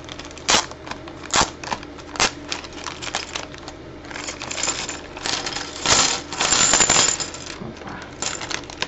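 Small plastic blocks from a falling-blocks game are poured out and handled one by one, making sharp, irregular clicks and clatters close to the microphone, with a busier rattle partway through.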